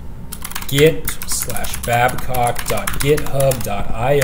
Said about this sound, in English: I'm just going to type mvconfig.html